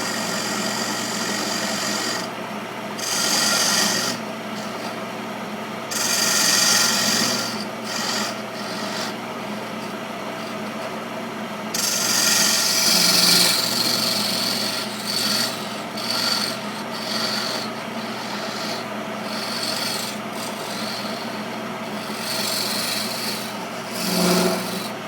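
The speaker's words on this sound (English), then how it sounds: "Take our little square nose scraper and make us a recess." A small square nose scraper cuts a recess into mahogany spinning on a lathe for a bird feeder, giving a steady raspy scraping over the lathe's hum, with louder rough bursts at intervals and no talk.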